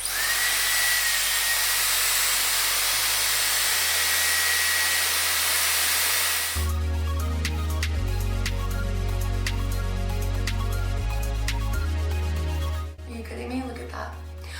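A Dyson Airwrap hair styler blows air steadily and loudly, a constant whooshing hiss that shifts in pitch partway through as the setting changes, continuing alone without talk.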